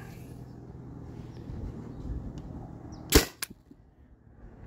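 A modded Byrna TCR launcher fed by a 20 oz CO2 tank fires a single sharp, loud shot near the microphone, with a quick rattling echo after it against a low steady background hum.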